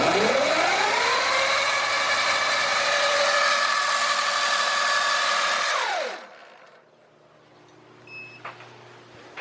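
Electric motorcycle motor on a KO Moto controller held at full throttle, a loud steady rising whine with harmonics that holds for several seconds, then spins down and cuts out, leaving quiet with a few faint clicks.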